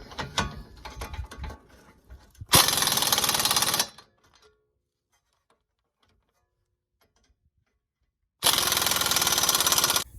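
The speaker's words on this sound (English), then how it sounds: "we put the 36mm axle nut back on and blast it home with the biggish Harbor Freight Earthquake" A biggish Harbor Freight Earthquake impact wrench blasts a 36mm axle nut home on a 2003 Honda Element during a CV axle swap, two loud hammering bursts of rattling impacts separated by quiet, after some earlier clanking.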